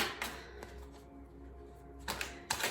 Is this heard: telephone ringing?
no